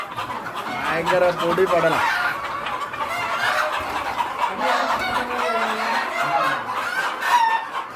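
Native chickens on an Arab's farm cluck and call repeatedly, close and fairly loud, with someone talking over them for most of the stretch.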